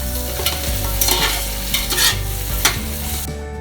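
Beef biryani mixture is stirred in a hot pot, with repeated close scraping strokes of a spoon over a continuous low sizzle and no voices.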